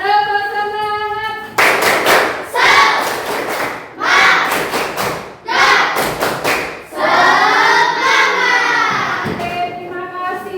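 Children in a classroom perform a rhythmic spirit clap, loud bursts of unison clapping and patterned claps alternating with chanted, sung-sounding vocal phrases, close and energetic.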